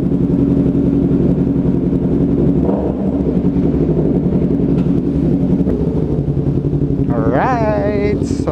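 A Yamaha MT03 motorcycle on service day runs with a loud, close, steady engine rumble throughout, and a voice cuts in briefly near the end.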